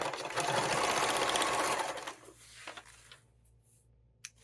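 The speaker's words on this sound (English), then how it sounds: "I'm going to sew carefully here because I'm close to the buckle." A sewing machine stitches across binding close to a buckle on a fabric tool storage roll, a fast steady whirring run of needle strokes for about two seconds, then stopping with a few soft clicks and handling sounds.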